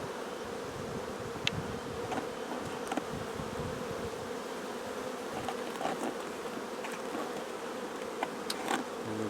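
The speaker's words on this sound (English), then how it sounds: "full of bees." Honeybees buzz in and around a nucleus box during a transfer to a hive body, a continuous close droning hum with individual bees passing by now and then.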